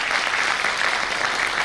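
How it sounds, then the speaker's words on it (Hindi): Loud, dense applause from an audience at a customer meet in Vrindavan, a continuous wash of clapping that holds steady throughout with no speech over it. "जोरदार तालियां हो जाए दोस्तों।"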